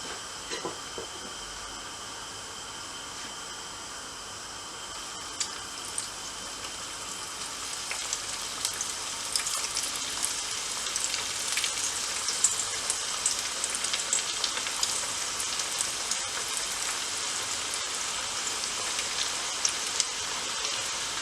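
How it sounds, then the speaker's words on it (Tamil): Paruppu vadai, lentil fritters, deep frying in hot oil: a steady, dense sizzle and crackle that holds at an even level throughout, with no voices over it. "இப்படி நாங்கள் மிச்சம் எல்லா வடையையும் பொரிச்சு எடுப்போம்"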